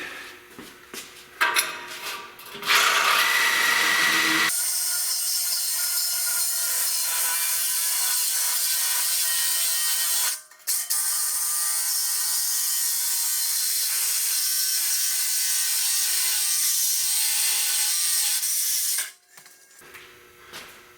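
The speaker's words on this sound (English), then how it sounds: "You keep a ton of pressure on this pad on here, keep the saw from bouncing." A Sawzall reciprocating saw cuts through a truck exhaust pipe on a 1999–2007 Chevrolet Silverado, a loud, sustained buzzing rasp running about fifteen seconds with a brief pause midway, preceded by clanks and handling noises.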